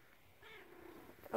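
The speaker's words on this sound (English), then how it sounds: "There's a kitty. There's a silly kitty." A RagaMuffin cat tucked among bed sheets makes a faint, brief meow with a soft purring undertone, quiet and close, with a small rustle at the end.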